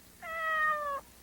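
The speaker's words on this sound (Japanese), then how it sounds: "猫、" A single cat gives one clear, drawn-out meow, close and fairly loud, rising slightly and then falling, standing alone against a quiet background.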